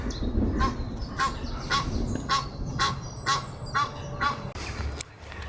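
Repeated loud honking quacks from ducks or geese, roughly every half second, close by over a murmuring outdoor background in a park in the Netherlands.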